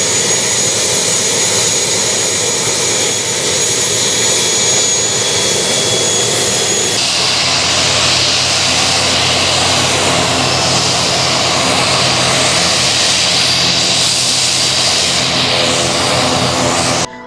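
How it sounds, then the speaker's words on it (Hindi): Airliner jet engines roar steadily and loudly at Bareilly airport on its first flight to Delhi, a continuous broadband rumble that swells and brightens midway, with no talk over it. "सबसे पहले बरेली एयरपोर्ट पर पहले हवाई उड़ान दिल्ली के लिए हुई"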